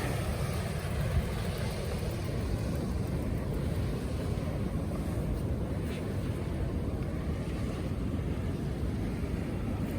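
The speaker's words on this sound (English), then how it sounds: "these big waves are just pushing that sand" Big waves wash steadily at a closing estuary mouth, a continuous broadband roar of surf pushing sand, close and loud with wind on the microphone throughout.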